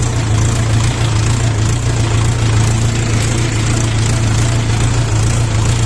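A cold LOVOL 354 mini tractor engine runs at a steady idle, its loud, close, constant low rumble unbroken and with no talk over it.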